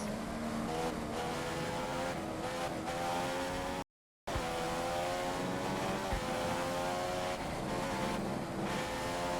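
Race car engine from the F1 2015 game, a Force India in championship mode, droning at steady high revs with a brief cut in the middle and shifting pitch.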